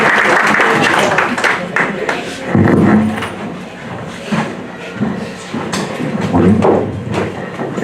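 An audience in a courtroom ceremony gives a judge a loud farewell round of clapping, mixed with shuffling and thumps, with talk heard over parts of it.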